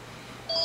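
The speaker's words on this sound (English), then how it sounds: "that's my phone" Short electronic beep from a mobile phone in a quiet room during paper crafting, a steady tone that starts about halfway through and holds to the end.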